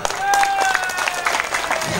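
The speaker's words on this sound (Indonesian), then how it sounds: "Tepuk tangan dulu." Audience applause bursts up in a mosque hall during a Maulid Nabi commemoration, a brief, dense patter of clapping with a voice carrying over it.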